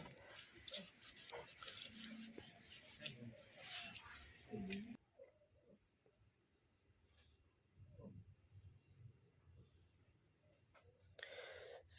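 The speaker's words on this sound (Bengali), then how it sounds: "220 নম্বর পেপার দিয়ে ভালো করে ঘষে নিচ্ছি" Wood that has been sealed with sealer is sanded by hand with 220-grit sandpaper. Soft rubbing strokes are close for the first few seconds, then the sound drops to faint, scattered scraping with a brief louder burst near the end.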